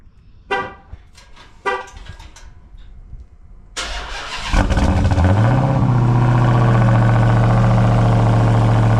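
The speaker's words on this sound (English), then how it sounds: "So we're gonna get a cold start with the cat still in the car" A Dodge Charger Hellcat with its catalytic converters still fitted is cold started. A few clicks and short cranking bursts come first, then the engine catches with a loud roar that settles into a steady, deep idle.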